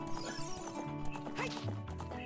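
A horse whinnies and its hooves clip-clop in Zelda: Ocarina of Time, a quiet, steady pattering of steps with a brief neigh under game music.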